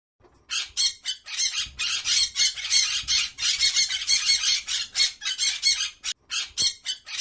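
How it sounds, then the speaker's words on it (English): Harsh, raspy parrot squawks repeat in rapid, near-continuous bursts, loud and close, with only brief gaps between calls and no talk over them. "P for parrot."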